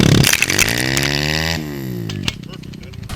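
A powersports vehicle engine revs hard, its pitch sweeping upward in a loud rising whine before cutting off abruptly, followed by a sharp knock and a lower, rougher idle.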